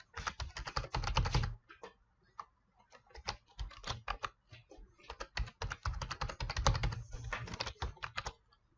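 Rapid keyboard typing on a computer keyboard while a password is entered, dense bursts of clicking keystrokes close by with brief pauses between runs, no voices.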